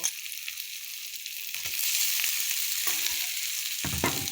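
Cauliflower, rice and potatoes are sautéed in a pan with a steady sizzle and scraping stir strokes, the frying growing louder partway through, with no talk.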